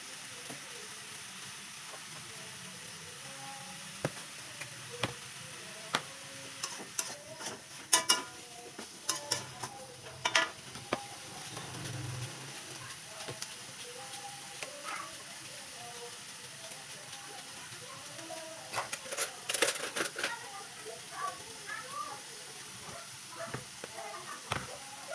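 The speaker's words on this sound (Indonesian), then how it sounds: "Aduk-aduk sampai setengah matang." Food stirred in a pan on a home kitchen stove while cooking Padang-style dishes such as fried tofu and stir-fried greens: a steady faint sizzle with irregular scraping and clinking of the utensil against the pan throughout, fairly close.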